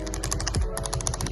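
Mechanical keyboard switches clicking in a quick, steady run of close, bright clacks with a brief low thump partway through, no talk over it, during a keycap swap on an old keyboard.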